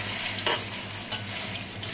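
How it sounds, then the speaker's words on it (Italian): Sausage frying in a pan with olive oil, whole garlic and chili, a close, steady sizzle with a couple of brief scraping stirs, no voices. "A questo punto vado ad aggiungere tutta la salsiccia"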